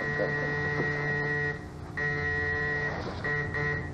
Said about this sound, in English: There's only one person in the world that can lean on a buzzer like that.